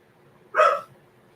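A single short dog bark, fairly close and clear, standing alone against a quiet background.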